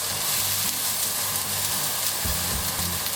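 Beef-stuffed aubergines with chestnut sear in a hot pan, a steady close sizzle and crackle of frying that runs continuously without pause.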